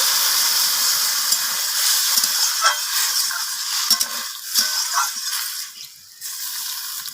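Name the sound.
water added to frying vegetables in pan, sizzling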